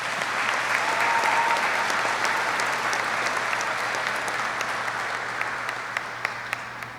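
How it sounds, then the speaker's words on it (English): Sustained applause from a crowd at a military Warrant Officer Candidate School graduation ceremony, a dense steady wash of clapping that holds loud for several seconds with a few sharper individual claps near the end. "Please join me in a round of applause for this outstanding team."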